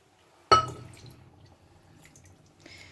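Half a litre of water poured into a pot of simmering lasagne sauce, one sudden splash followed by soft bubbling and dripping that fades, quiet and close.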